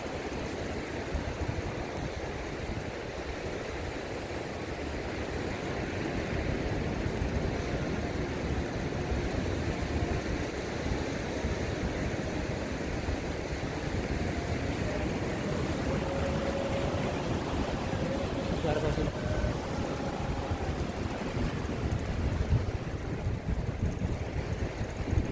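Strong ocean waves roll onto a beach in Pangasinan, a continuous loud wash of surf mixed with wind noise.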